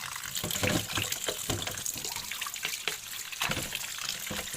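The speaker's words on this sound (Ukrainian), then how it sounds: "Зараз трохи набереться водичка, і ось так ми їх будемо трохи промивати" Tap water runs into a sink to rinse boiled mushrooms, a soft, uneven splashing and trickling at low volume, with no voices.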